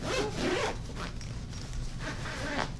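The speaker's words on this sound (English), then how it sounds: "So let's just zip this up right here." A zipper is drawn shut around a packing cube inside a suitcase being packed for a cruise, two or three quick rasping pulls close to the mic with a short pause between them, no voices.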